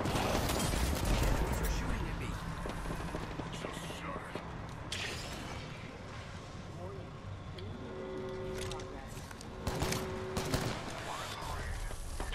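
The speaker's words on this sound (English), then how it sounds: "Who was shooting that?" Bursts of gunfire in the video game Apex Legends crackle and pop at varying distances throughout, mixed with game effects and overlapping chatter from several players.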